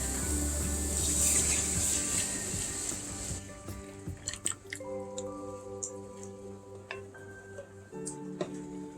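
Half and half poured into a simmering pan of creamy chicken pasta gives a steady sizzling hiss at first, then settles into soft bubbling pops and drips in the pan.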